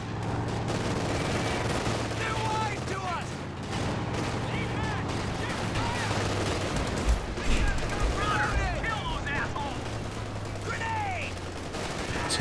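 Heavy .50 cal machine gun bursts in the strategy video game Company of Heroes 2, rapid repeated firing layered with other gunfire and explosions over steady battle noise, a caster talking throughout.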